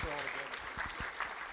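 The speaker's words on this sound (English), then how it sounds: "Can we give a round of applause to our parents tonight?" An audience at a school board of trustees meeting claps for students' parents, a brief faint patter of hands with a few distinct claps, quiet and short.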